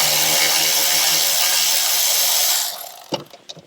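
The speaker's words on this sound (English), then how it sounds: "go ahead and remove those bolts" A power tool whirs loudly and steadily while removing bolts from a Dodge Jeep Chrysler 3.6L engine during oil cooler repair, then winds down and stops, followed by a few metallic clinks.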